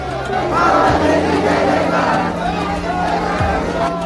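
Large crowd of pilgrims thronging the temple at the Gogamedi fair in Rajasthan, a loud, continuous babble of many voices with shouts and chanting rising throughout.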